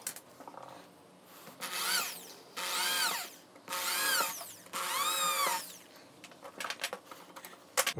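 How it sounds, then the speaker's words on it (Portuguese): Power drill boring holes into wood while building a rustic wooden chest handle in a woodworking shop: four sustained whining drill bursts with rising and falling pitch, close and loud, separated by quieter handling noises. "Eu vou fazer os furos desse lado aqui para já adiantar a minha vida"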